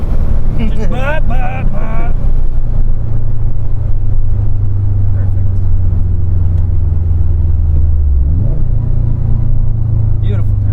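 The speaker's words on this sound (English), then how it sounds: "Beautiful downshift." A 2005 Subaru Legacy GT with a manual transmission drops a gear while driving, its steady engine drone swelling in a quick rev near the end, with people talking over the low in-cabin rumble.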